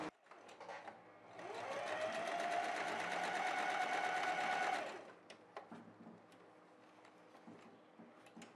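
A sewing machine stitches the shoulder seam of a girl's dress made from a jacket, running in one steady, close whir of about four seconds, with light handling clicks before and after.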